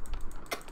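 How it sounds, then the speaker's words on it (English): A cat walks across a computer keyboard during a game, producing a few soft, irregular key clicks close by and fairly quiet. "Galak, get off my keyboard! Get off my keyboard!"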